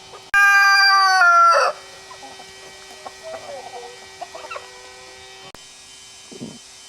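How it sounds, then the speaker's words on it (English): Home-hatched chickens: a loud, close crow-like call opens, followed by softer intermittent clucks over a constant electrical hum. "That is one of the chickens that we hatched right there."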